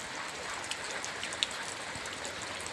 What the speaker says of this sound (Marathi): पाऊस तर उघडायचं नावच घेत नाही